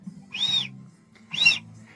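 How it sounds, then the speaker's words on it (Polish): A Barton Fuel Whistle refuelling whistle fitted on a 1/3 breather hose gives two short, bright whistle tones about a second apart over a low background hum. "gwizdżemy w gwizdek w jedną stronę gwizdżę."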